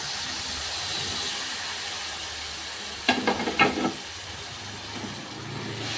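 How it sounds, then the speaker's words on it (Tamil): Tomato juice is poured into hot oil with chili powder, giving a brief loud sizzling burst that fades back into a steady low frying hiss. "மிளகாத்தூள் காஞ்சி போய் இந்த இதில் வந்து நான் தக்காளி சாறை இதில் சேர்த்துட்றேன்"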